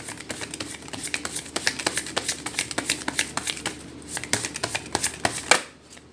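Tarot cards are shuffled by hand in a quick, steady run of soft riffling slaps and flicks, close and clear, ending with a final tap as the deck settles.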